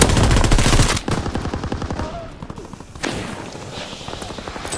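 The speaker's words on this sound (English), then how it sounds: "Grease gun." Grease gun submachine gun firing in Call of Duty WWII, a loud continuous burst of rapid shots at the start, then a steady stream of quicker, quieter shots that fade, with another short volley later.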